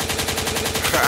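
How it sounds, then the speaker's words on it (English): Rapid gunfire sound effect dropped into a hip-hop DJ mix, a dense burst of repeated shots running the full second over a loud beat, swelling slightly at the end. "a gunshot means forward"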